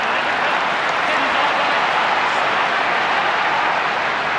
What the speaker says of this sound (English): Crowd getting into the contest at the moment.